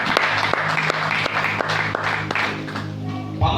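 A church congregation applauds in rhythm for the glory of the Lord, loud and close, with a crowd of hands clapping in a steady beat and voices mixed in, fading slightly near the end.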